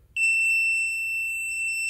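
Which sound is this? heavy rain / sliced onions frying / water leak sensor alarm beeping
water leak sensor alarm beeping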